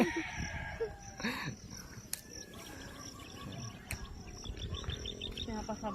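A rooster crows outdoors in a rural province setting, a drawn-out call a short way off, with crickets chirping, hens clucking and other faint farmyard noises around it.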